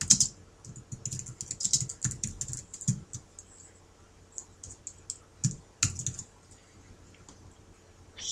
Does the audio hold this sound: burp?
no